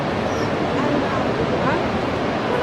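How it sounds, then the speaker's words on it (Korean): Steady, dense roar of Iguazu Falls heard from the end of the Brazilian-side trail, a continuous broadband wash of falling water with no breaks, close and fairly loud throughout. "이제 브라질 이과수 폭포 트레일 끝에 왔습니다."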